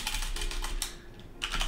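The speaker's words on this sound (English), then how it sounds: "We'll type in keyboard and one," Keys clatter on a computer keyboard while a game is built in Unreal Engine, in quick bursts of close, crisp taps with a short pause midway.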